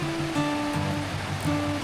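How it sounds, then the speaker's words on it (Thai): A stream at the hot spring park in Chae Son National Park, Lampang, rushes steadily in a close, full wash of water. Faint sustained tones sit underneath. "โอ้ลำธารสวยมาก"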